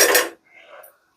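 A lid goes onto a cooking pot with one short, loud metallic clank, followed by a faint, brief rattle as it settles, then silence.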